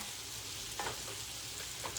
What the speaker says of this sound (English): I am going to start mixing my meat